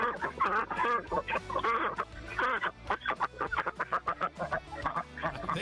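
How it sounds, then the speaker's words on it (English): Geese honking in a noisy flock being fed, a continuous overlapping chorus of nasal calls that settles into rapid rhythmic honks, close and fairly loud. "I think they're geese."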